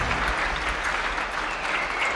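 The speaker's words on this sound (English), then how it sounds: "That got the crowd excited." Crowd applauding at a real tennis match, a dense steady burst of clapping that fills the whole moment without letting up.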